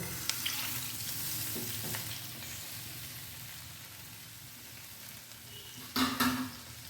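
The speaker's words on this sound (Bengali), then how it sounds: "এটা কিন্তু বেশ ভালোভাবে নাড়াচাড়া করে যেতে হবে।" Milk simmering with two spoons of ghee in a hot frying pan gives a soft, steady sizzle with faint stirring scrapes, then a brief louder clatter near the end.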